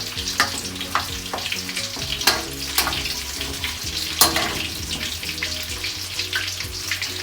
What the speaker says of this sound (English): fry your second batch of lobsters, making sure that oil doesn't get too hot